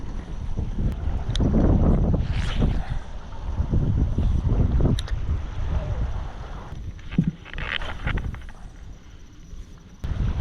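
Steady wind gusts buffet the microphone out on open water during a bass fishing session, a loud, continuous rumble rising and falling throughout with faint splashes and movement beneath.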